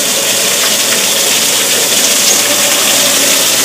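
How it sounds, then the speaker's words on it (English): Water gushes from a Bradley emergency shower as a loud, steady hiss that fills the whole stretch without a break. "This handle. You start to shower."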